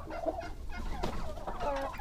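Turkeys kept in a home backyard setup cluck in short, broken calls that overlap one another, close and moderately quiet.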